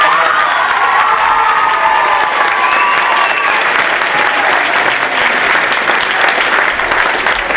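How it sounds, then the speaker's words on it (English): Loud, continuous applause from a close crowd at an 8th grade step-up ceremony, mixed with some cheering and scattered shouts, holding steady the whole time. "We should all give her a round of applause."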